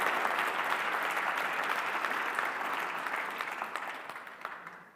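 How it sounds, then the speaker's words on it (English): An audience at the 2021 Oregon Technology Awards ceremony claps for the finalists, a dense, steady wash of applause that slowly fades toward the end. "A big round of applause for all of our 2021 pre-revenue finalists."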